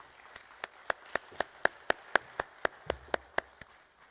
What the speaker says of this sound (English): please welcome Sriram with a big round of applause